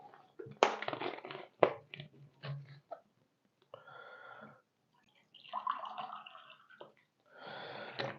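Water poured and worked into a boilie bait mix gives bursts of wet, squishy crunching and splashing, close and irregular, broken by short silences, with a later softer hissing pour.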